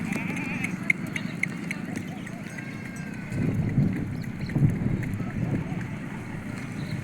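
Small goats bleat as women herd them through the Devmali area of Rajasthan, with repeated thin cries over steady wind and outdoor rumble, moderately close, with no talk.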